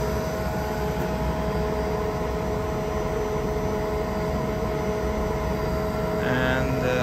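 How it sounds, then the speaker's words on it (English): A Kaeser ASD 50 T SFC screw compressor running unloaded, a steady, fairly quiet mechanical hum with a constant whine, unchanging throughout. "This compressor is pretty silent. I think it's around 62 or 3 decibels."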